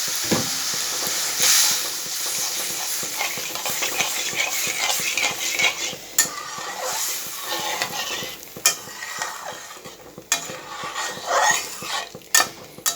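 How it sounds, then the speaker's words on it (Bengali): Water splashed into a hot pan of sholpa fish sour curry, sizzling and bubbling steadily with scattered clinks of utensils against the pan, close and fairly loud, with no talking. "এই যে জল দিয়ে দিচ্ছি"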